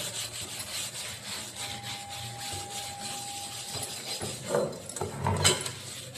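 Close, steady rubbing and scraping of a wire scrubber with salt against a surface, a rough continuous grinding texture that turns louder and choppier toward the end.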